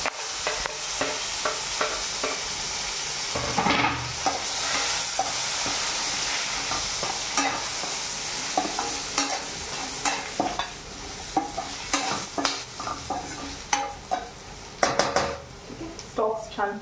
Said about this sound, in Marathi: आपण ह्याच्यामध्ये हे कोथिंबीरचे जे स्टॉक्स आहेत ना ते घालून घेऊया